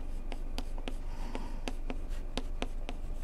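Pen or marker writing math by hand during a university calculus lecture. Quick scratchy strokes and taps come in an irregular rhythm, close and clear, with no talking.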